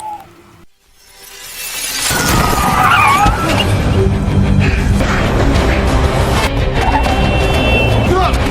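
A car roars off with tires skidding and screeching, loud and close, after a brief quiet moment, then a sustained engine-and-tire rush with crashing clutter and some faint voices underneath.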